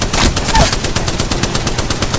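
Rapid automatic gunfire from the video game Apex Legends rattles in a steady, loud burst of repeated shots, close and continuous across the whole stretch.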